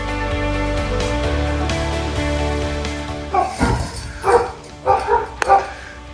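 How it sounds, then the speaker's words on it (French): Hunting dogs kept in an enclosure bark, several sharp, loud barks and yelps coming in irregular bursts after a steady droning hum fades out. "Ils sont tout le temps enfermés, ces pauvres chiens de chasse."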